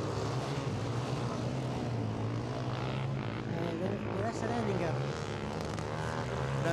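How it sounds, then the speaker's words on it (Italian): A racing quad engine at the 2008 Motorshow race blares in a loud, steady, unbroken drone after losing its exhaust end pipe, with voices talking over it. "È aumentato il rumore, si è perso il terminale di scarico"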